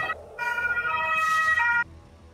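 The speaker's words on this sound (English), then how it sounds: "That's why we keep hearing your sirens." A wailing siren with steady harmonic tones rises and falls outside, muffled as if heard through a window, then cuts off abruptly.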